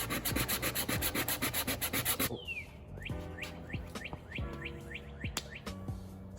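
Rapid back-and-forth hand sanding scrapes over thick Bondo on a car spoiler, then turns to slower, sparser strokes while birds chirp in the background; no voices.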